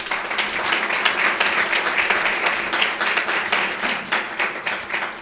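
Audience applause for a hard-working planning committee at a Westlake Hall of Fame induction ceremony, dense and steady clapping from a crowd that holds at full strength without talk for about five seconds.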